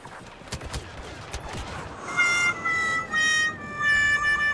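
Gunfire from the video game Star Wars Battlefront comes in short repeated bursts, first a scattering of shots and then louder tonal blasts pulsing in quick succession, with no voices.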